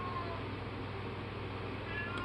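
A cat crying at the door indoors: faint, distant meowing heard over a steady low background hum, with a brief louder cry at the very end.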